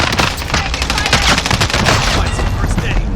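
Rapid burst-fire gunshots from a Fennec submachine gun loaded with burst rounds in the video game Call of Duty: Warzone, a dense, loud, continuous fusillade of cracks and booms that carries through the whole stretch.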